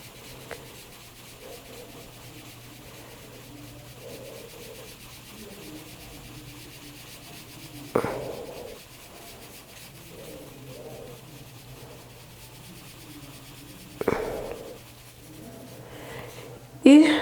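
A pencil shades the background of a fish drawing with soft, continuous rubbing strokes, faint and close, broken by a few louder taps while a person speaks quietly at times.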